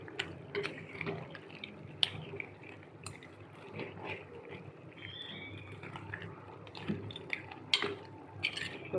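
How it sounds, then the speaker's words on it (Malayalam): Crab curry being stirred in a pot, with wet sloshing, bubbling and intermittent clicks of a spoon against the pot, close and moderately loud, coming in irregular bursts. "നന്നായിട്ട് ഇളക്കി"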